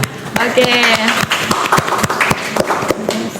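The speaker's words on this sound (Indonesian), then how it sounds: "Tepuk tangan dulu untuk Mbak Afnan." A crowd claps steadily, moderately loud, while a voice speaks over the applause.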